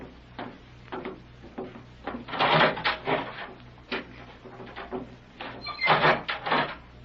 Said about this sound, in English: We'll begin with this door in front of us.